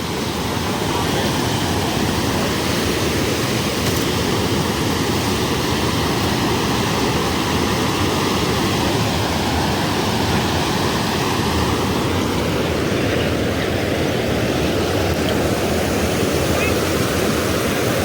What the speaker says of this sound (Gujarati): નદીનો વરસાદ બહુ બધો રોજ રહ્યા છે જબરજસ્ત પાણી આવે છે